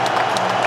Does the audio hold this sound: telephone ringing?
no